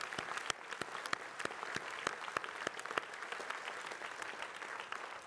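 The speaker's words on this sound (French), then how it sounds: "on peut applaudir" Steady applause from an audience at a 2020 New Year's greetings ceremony, a dense patter of clapping at moderate distance with sharper individual claps standing out, continuing evenly throughout.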